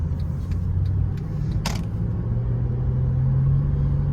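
Inside a 2011 Mercedes C300 W204 4matic while driving, a steady low engine drone and road rumble fill the cabin, with a slowly rising hum and a brief sharp click midway.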